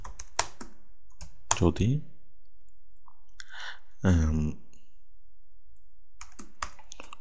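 Bengali text being typed on a computer keyboard, short bursts of close, crisp key clicks separated by pauses, with a voice speaking briefly in between.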